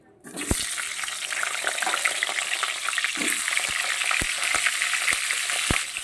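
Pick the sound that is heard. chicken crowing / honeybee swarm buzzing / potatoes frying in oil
potatoes frying in oil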